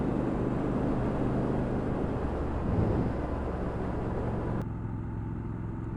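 A Triumph Scrambler 1200 XE motorcycle cruises at around 55 to 60 mph, heard as a loud, steady rush of wind and engine drone from the rider's position, dropping slightly in level near the end.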